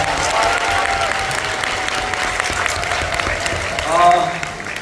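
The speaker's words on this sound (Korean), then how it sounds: "스스로를 위해서 박수 한번 부탁드립니다" Applause from a large seminar audience fills the room in a steady, dense wash of clapping that swells briefly near the end, with a faint voice audible underneath.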